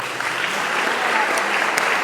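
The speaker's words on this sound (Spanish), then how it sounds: "Gracias, un aplauso para la hermana." Applause from a church audience at a question-and-answer session, a dense, steady wash of many hands clapping at even volume for about two seconds.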